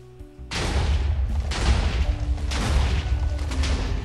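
Railgun in the Minecraft RotaryCraft mod firing at a spider, heavy booming blasts roughly once a second, each with a crashing impact and rumbling decay overlapping the next, loud and close with no speech.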